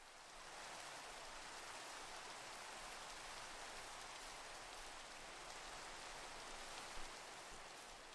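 Rain pouring steadily in a video game world, a dense even hiss of falling drops that holds constant and fairly soft throughout with no voices over it.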